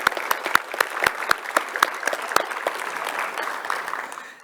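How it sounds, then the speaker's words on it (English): Audience applause at an art event at Space Center Houston: a few distinct, sharp individual claps at the start that thicken into a softer, sustained round of clapping, with no talking. "Another round of applause."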